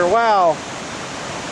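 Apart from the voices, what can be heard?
mountain stream water flowing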